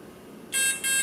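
Two bright, high-pitched programming beeps from an Align RCE BL80X or BL50X brushless ESC, each roughly a quarter second long with a brief gap between them, close and clear over a low background hum.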